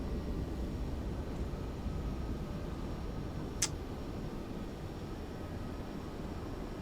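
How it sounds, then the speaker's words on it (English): A Pilatus PC-12 turboprop taxis in Microsoft Flight Simulator 2024, giving a steady, loud broadband engine drone that holds evenly throughout, with one brief high click partway through. "Now this plane does taxi quite fast"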